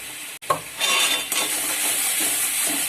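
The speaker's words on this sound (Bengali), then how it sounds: "মশলাটা একটু কষে নেবো" Spices with salt and turmeric sizzle as they are stirred and fried in a pan, a close, bright crackling hiss with a metallic scrape near the start and ongoing stirring scrapes.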